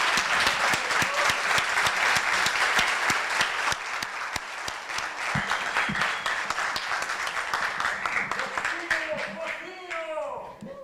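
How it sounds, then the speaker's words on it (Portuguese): An audience at an anniversary ceremony applauds in a dense, sustained wave of clapping that fades slightly toward the end, where a voice begins speaking. "Eu peço a todos vocês uma salva de palmas para o João Paulo de Carvalho"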